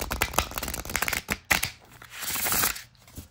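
Sturdy cardstock oracle cards riffle-shuffled by hand, giving a run of crisp fluttering riffles followed by a softer hand-over-hand shuffling rustle, close and clear with no talking.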